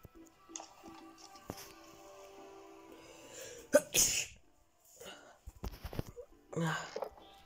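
One person's sudden, sharp sneeze bursts out close to the microphone amid quiet indoor sounds, followed by small rustles and breathy noises.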